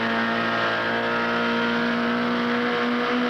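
A 1971 BRE Datsun race car accelerates hard out of a fast 180-degree sweeper, its engine holding a steady, loud, high-pitched roar with a strong sustained tone throughout and no talk.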